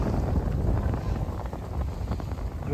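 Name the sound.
strong wind blowing on a boat trip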